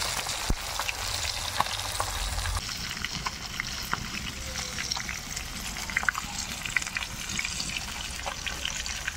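Sarputi fish fry in hot oil in a kadai, giving a steady sizzle with sharp pops and spits scattered throughout, heard close up without talking.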